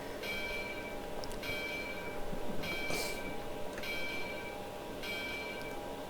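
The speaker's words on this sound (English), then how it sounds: "The bell sound is not that bad." Locomotive bell on an RGS 4-6-0 steam engine in Train Simulator Classic, ringing in steady, evenly spaced clangs about once a second over a constant low engine rumble.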